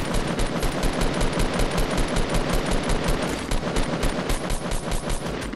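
Rapid, sustained automatic gunfire from a Fortnite Battle Royale match, dense and loud, with shots rattling in an unbroken rhythm throughout and no talking over it.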